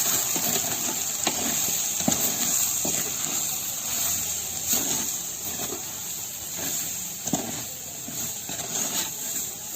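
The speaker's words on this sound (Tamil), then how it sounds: "இப்போ மஞ்சத்தூள், சீரகத்தூள், மிளகுத்தூள், தேவையான அளவு உப்பு போட்டு நல்லா ஃப்ரை பண்ணிக்கோங்க." Chettinad-style mutton pepper chukka fries with turmeric, cumin powder, pepper powder and salt, a soft continuous sizzle and hiss broken by occasional light stirring scrapes, close by and without speech.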